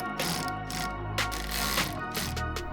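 Ratchet clicking in quick repeated bursts while tightening the front splitter screws on a Corvette C8 Stingray during a 5VM-style splitter install, close and fairly loud against mechanical background noise.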